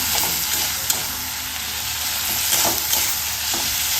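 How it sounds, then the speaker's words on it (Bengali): Ginger garlic paste hits hot oil and frying spices in a pan, giving a steady, loud broadband sizzle with occasional stirring scrapes throughout, no voices. "এবার আমি এই যে এর মধ্যে পেস্ট করে রাখা আদা রসুনের পেস্টটা দিয়ে দিলাম।"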